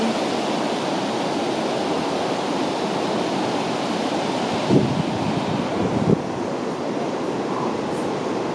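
Steady, loud rushing water from Yellowstone's river and waterfalls fills the whole clip, a constant broadband roar, with a couple of brief knocks near the end.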